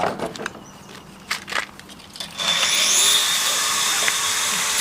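A power drill boring through old wooden formwork for a reinforced-concrete lintel, starting after a few light knocks and then running as a loud, steady, gritty whine close by.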